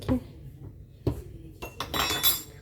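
Ingredients for a leavening starter of flour being mixed in a bowl for a cake, with a few distinct clinks and scrapes of a utensil against the dish, close by, followed by a busier stretch of rattling.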